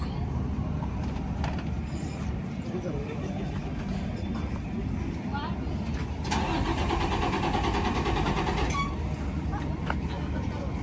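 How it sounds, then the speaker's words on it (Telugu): A six-wheeled military armored vehicle displayed at a Kuwait National Day event starts its engine, a rumbling mid-pitched roar that swells partway through amid outdoor crowd noise and faint birds. "ఇంజన్ స్టార్ట్ చేస్తున్నాడు."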